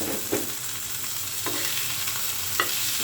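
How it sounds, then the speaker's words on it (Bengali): Boiled chicken frying in oil with onions, a continuous close sizzle broken by three distinct scraping stirs spaced across the stretch, with no voices over it. "মাংসটাও তেলের উপর ভাজি করে নেব"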